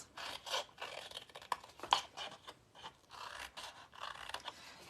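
Scissors trim the corners of gift card box tabs, making soft, close paper cuts and rustling scrapes in short irregular bursts, quiet and with no voices.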